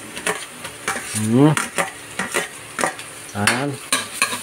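Ginger and garlic sizzle in a hot pan for bopis while a utensil stirs and scrapes with quick clinks, close up, and a voice speaks briefly over the cooking.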